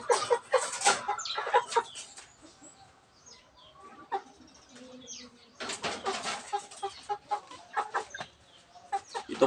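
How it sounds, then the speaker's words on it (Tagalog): Several chickens recovering from coryza cluck and squawk close by in bursts, with faint wing flapping and irregular calls between quieter gaps. "At ngayon po ay masigla na po yung mga manok ko"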